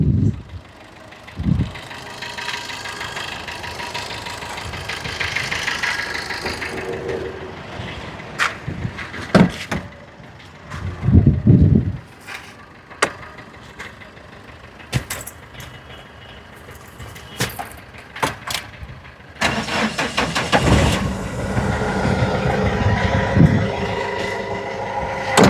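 A used car engine runs at a steady idle in an outdoor car lot, with a low continuous rumble and intermittent clunks and noises over it, moderately close.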